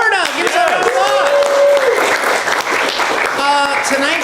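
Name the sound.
audience applause at improv comedy show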